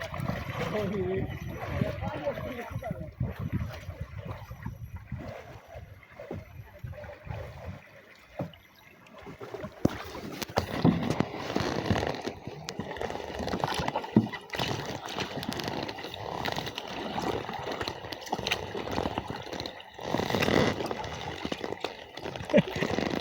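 Kayak paddling through mangrove forest water toward the sea, with repeated paddle splashes and trickling water, close by, while people talk over it.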